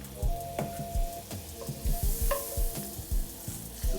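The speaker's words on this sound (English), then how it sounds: "Add some butter to our pan." Butter melting and sizzling in a pan while making a honey garlic pork chop sauce, a steady close crackle with soft stirring scrapes throughout.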